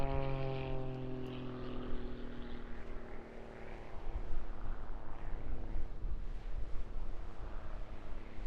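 An aerobatic display plane at the Eastbourne International Airshow 2025, weighing 750 kilograms and powered by a 6-cylinder 8.5 litre 300 horsepower engine, roars past. Its engine tone drops as it passes, then settles into a steady rumbling drone.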